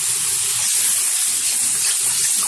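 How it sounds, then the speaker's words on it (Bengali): Water goes into a pan of sautéed potato and kundri for a Bengali fish curry, making a loud, continuous sizzling hiss and gush throughout. "এখন দিয়ে দেবো এর মধ্যে পরিমাণ মতো জল।"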